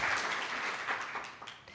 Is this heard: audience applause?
yes